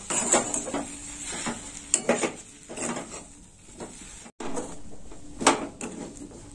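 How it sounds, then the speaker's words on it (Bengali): Semolina mixed with a little flour is stirred in a pan, giving repeated scraping strokes of a spoon against the pan at a steady rhythm, interrupted by a brief gap. "সুজিটা আমি ভালো করে নেড়ে চেড়ে নেব।"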